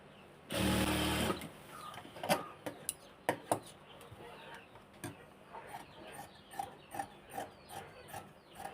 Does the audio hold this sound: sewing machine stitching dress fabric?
yes